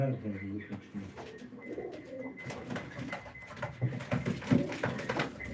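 Pigeons in a loft at a live Turkish auction coo in low repeated bursts, close by, under a voice talking.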